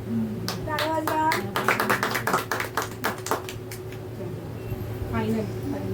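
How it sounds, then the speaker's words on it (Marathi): Several people clap by hand for a wedding anniversary at a family gathering at home, in a scattered, uneven burst of claps with a voice and other talk heard alongside. "टाळ्या वाजवा"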